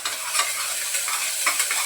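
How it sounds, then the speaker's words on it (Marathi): Tomatoes stirred and sautéed in a hot pan at home, with a steady close sizzle and soft scraping of the spoon, and no one speaking. "टमाटा पण परतून घेते यामध्ये चांगला."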